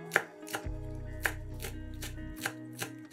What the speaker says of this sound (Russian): Базилик измельчаем ножом.